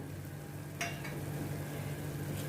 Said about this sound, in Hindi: अभी ये मसाले को सब टमाटर और प्याज के साथ अच्छी तरह से मैं मिक्स करती हूँ।